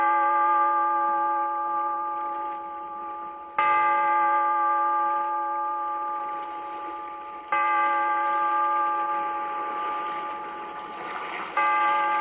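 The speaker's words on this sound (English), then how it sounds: "Bellkeeper, toll the bell, so that all may know we are gathered again in the Weird" A large bell tolls three times at slow, even intervals, each deep ringing stroke swelling loud and then decaying under a long sustained hum until the next strike, with no voices.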